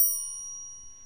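A single bright notification bell ding rings out clearly at the start and then fades slowly over about a second, heard alone.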